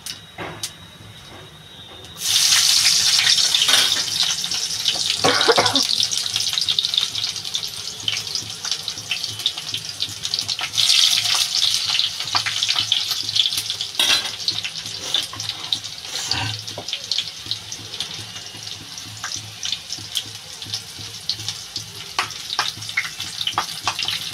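Garlic and black cumin seeds hitting hot oil in a pan for a Bengali spinach dish, starting with a sudden loud sizzle that keeps crackling and spitting steadily, close by with no talk.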